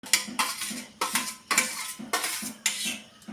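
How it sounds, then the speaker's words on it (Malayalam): Onion, tomato and green chilli tipped into a pan with a metal utensil, giving a series of sharp, regular scraping clatters against the pan, close and fairly loud. "ഇനി നമുക്കിതിലേക്ക് ഉള്ളി, തക്കാളി, പച്ചമുളക് ഇത്രയും നമുക്ക് അതിലേക്ക് ഇട്ട് കൊടുക്കാം"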